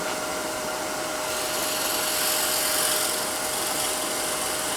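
A power drill with a 5/16-inch bit runs continuously for several seconds, a steady, close, fairly loud whirring hiss that barely changes in pitch, with no talking.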